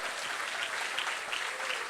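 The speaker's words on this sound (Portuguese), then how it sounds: "Se é para mim esse aplauso" A church congregation claps in steady, dense applause that carries on unbroken at moderate volume, with no talk over it.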